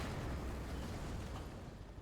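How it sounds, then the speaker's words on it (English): A big explosion in an action movie playing on a huge cinema screen, a dense low rumbling boom that fills the full two seconds and slowly fades, with no talk over it. "That was a pretty epic explosion."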